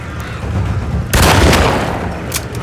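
Gunfire in the game Alone in the Dark: a loud burst of shots and a booming blast strike midway, then ring out over a steady low rumble of game ambience.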